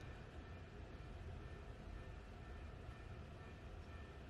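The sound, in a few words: passing train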